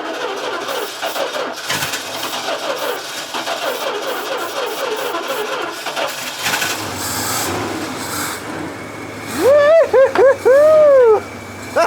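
A 1968 Dodge D200 pickup engine cranks with a rasping starter, catches and settles into a rough idle, closely recorded, with loud bursts and excited voices toward the end.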